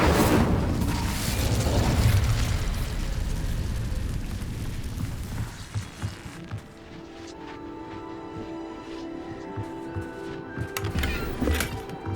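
A fire spell is cast in Hogwarts Legacy, opening with a loud, rumbling burst that swells and roars for several seconds before fading into quieter magical chimes and soft crackles.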